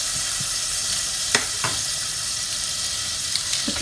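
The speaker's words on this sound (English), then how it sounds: "You can see it steaming and boiling." Steady hissing sizzle from a pan of French onion soup steaming and boiling, with a few soft clinks and stirring knocks scattered through, no voices.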